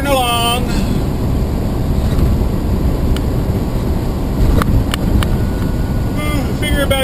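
A big rig truck drives along a highway, heard from inside the cab as a loud, steady engine and road roar with wind noise, broken by a few brief clicks and rattles.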